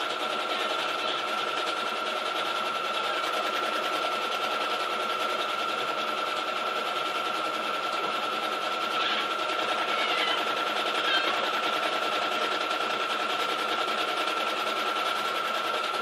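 Sewing machine stitching a quilt label, a steady, even mechanical whir at moderate volume that runs unbroken for the whole stretch, with no talking.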